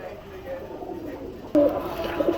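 Giribaz pigeons coo softly in a low, murmuring run, with a brighter burst of cooing partway through against faint background noise.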